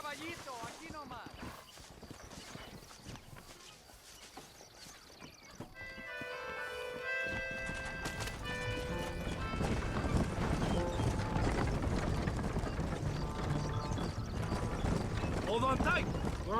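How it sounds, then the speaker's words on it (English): Horse hooves clip-clop in Red Dead Redemption gameplay, rhythmic hoofbeats starting under someone speaking, then a steady ride with rising mechanical and musical tones underneath. "So, caballo, so. Ya caballito, aquí nomás."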